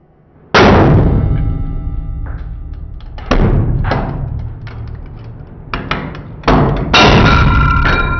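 A 40-ton hydraulic press crushes a ball bearing, giving a series of loud, sharp bangs and cracking thuds at irregular intervals, each ringing briefly before the next burst.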